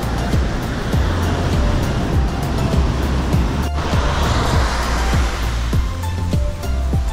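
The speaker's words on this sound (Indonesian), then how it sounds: "Deburan ombak dan anginnya mantap." Ocean waves crash onto a beach at Lombok with steady wind, a loud continuous roar of surf with repeated breaking swells and no voices.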